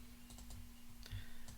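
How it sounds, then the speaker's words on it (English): A few light computer clicks in quick succession while stepping through time points in mapping software, soft and close over a steady low electrical hum. "we'll just click through the time points quickly"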